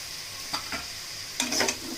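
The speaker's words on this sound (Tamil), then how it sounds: "ஆட் பண்ணிவிட்டு நல்லா அப்படி ஃப்ரை பண்ணி விடுங்க." Chicken salna masala frying in a pan, with brief stirring scrapes and soft sizzling bursts at close range, the pan otherwise faint between strokes.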